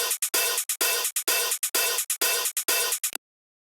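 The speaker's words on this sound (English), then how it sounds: "The hi-hat is 3 layers, one open, 2 closed." A hi-hat sample built from three layers, one open and two closed, plays in a quick rhythmic pattern of bright, hissy metallic hits with longer open sizzles between short closed ticks, loud and dry with no talking.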